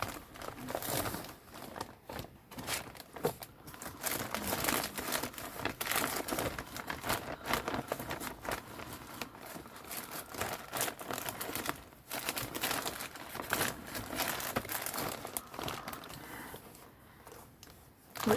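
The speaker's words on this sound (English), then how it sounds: "excuse the rustling" Continuous close crinkling and rustling of a plastic bag being rummaged through to find a quilt piece, with irregular crunchy bursts and no talking.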